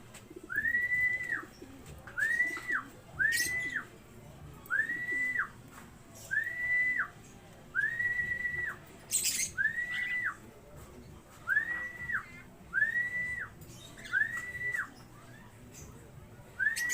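Pigeons give a repeated whistling call, roughly ten evenly spaced rising notes, close and clear over low background noise as racing birds return to the loft after a race.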